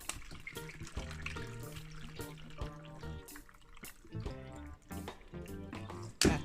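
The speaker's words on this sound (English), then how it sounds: "We're going in with the water." Water poured into a blender jar of carrots, ginger, tomato and lemon for juice, a close liquid splashing and trickling over a few seconds with brief clinks near the end.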